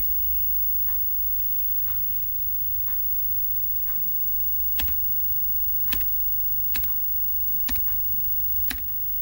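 Computer keyboard keys are pressed during router configuration: scattered light taps, then several sharper, evenly spaced keystrokes over a faint steady hum.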